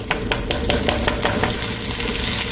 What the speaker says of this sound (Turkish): Şimdi içine 3 bardak yıkadığım pirinci ekliyorum.